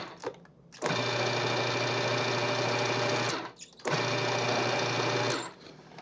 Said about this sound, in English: I just wanna blend it just a little bit to kind of mix everything up.